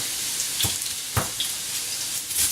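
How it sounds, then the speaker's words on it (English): Jicama sizzles in hot oil in a pan, a continuous close frying hiss broken by a few soft clicks and light knocks. "You can hear that sizzling, and I'm just going to plop this right in"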